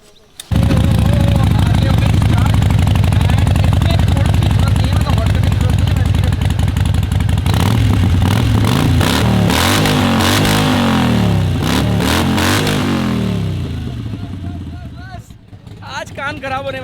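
A Harley-Davidson motorcycle engine runs loud and close with a steady, throbbing idle, then is revved in several quick surges before it settles and fades slightly.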